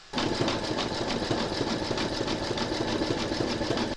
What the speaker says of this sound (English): Pop your hoop into your machine and stitch round number 12, and that's going to zigzag along here and join the two pieces together.